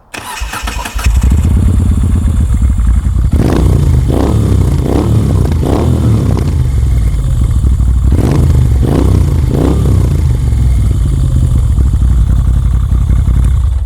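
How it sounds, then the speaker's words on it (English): A Moto Guzzi motorcycle engine fires up and settles into a loud, close, steady idle, with several sharp throttle blips lifting the rumble before it drops back down. "That bike is probably the best sounding bike that I've owned."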